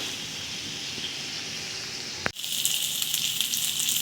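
Chicken frying in a pan, a steady hissing sizzle that cuts off briefly after a sharp knock and then returns brighter and louder.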